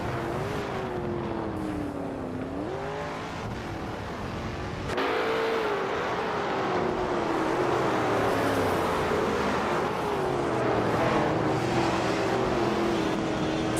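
A 1970 Plymouth Barracuda's engine in a racing video game, a steady droning roar with pitch sliding up and down as it revs, growing louder midway and holding strong, no voices.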